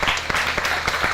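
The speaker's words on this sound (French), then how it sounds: "Un applaudissement, s'il vous plaît." An audience applauds at a handover ceremony as the president is invited to the microphone, a dense, loud burst of clapping from a crowd filling the whole moment.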